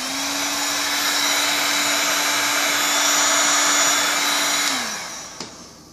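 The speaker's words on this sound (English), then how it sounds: "Get the heat gun. I use the heat gun just to kind of enhance," A heat gun blows a loud, steady whirring roar close by while heating sneakers, holding for several seconds before it switches off and winds down, followed by a small click.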